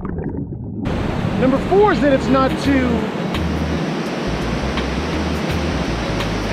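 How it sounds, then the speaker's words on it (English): Ocean waves wash steadily onto a sandy beach in Phuket, making a broad, continuous hiss under a person speaking close by. "Maybe the waves."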